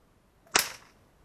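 A single loud whip crack, sharp and sudden like a gunshot, standing alone against near silence with a short fading tail.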